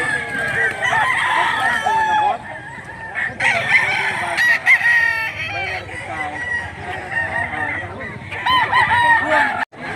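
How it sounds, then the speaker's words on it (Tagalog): Several roosters crow loudly and repeatedly, overlapping one another, with hens clucking nearby and some faint talk in the background, in Mantalongon, Cebu, Philippines. "Kining lugar may pinakadaghag mga manok."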